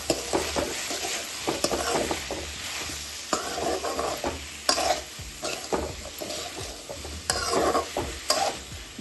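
Spiced potatoes with red chilli and garam masala fry and sizzle in a pan while a spoon scrapes and stirs them in loud, irregular bursts, close up, with no talking.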